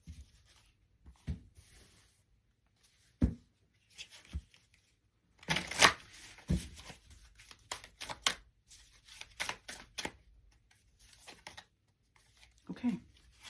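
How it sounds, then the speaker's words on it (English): Oracle cards are shuffled and drawn by hand, with soft scattered riffles and slides, a dense burst of crisp card flicks in the middle, and quiet pauses between, close and fairly faint. "I'm just going to pull the 3 cards, and then I am going to share them with you."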